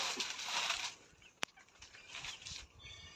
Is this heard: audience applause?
no